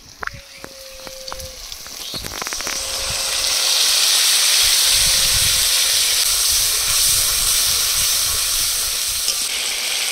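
Loud, steady sizzle and hiss as sour yogurt goes into a pan of fried, reddened onions for a jackfruit and prawn curry, preceded by a few clatters and stirring sounds, then a continuous frying roar.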